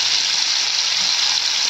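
Green chilies sizzling in hot mustard oil in a pan, a steady, bright, close frying hiss with crackle that holds evenly throughout, no talking.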